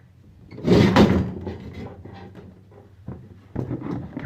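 Lift sliding door rolling open or shut with a heavy thud and rumbling scrape, close and fairly loud, fading into a low rattling tail.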